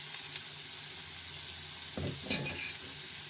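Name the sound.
stirring boiled broad beans in a pan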